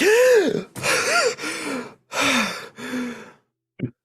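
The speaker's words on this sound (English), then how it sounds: "as Ishka gasps back to life" A voiced gasp from a character coming back to life in a fantasy audio drama, several loud, close, drawn-out gasping breaths with rising and falling pitch, followed by a short quiet catch of breath.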